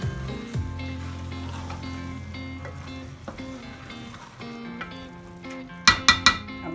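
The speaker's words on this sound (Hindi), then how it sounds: "ये देखें इसको मिक्स करेंगे हम" Daal qeema being stirred and mixed in a hot pan, a soft continuous sizzle with scraping, ending in a few sharp metallic clinks of a spoon against the pan.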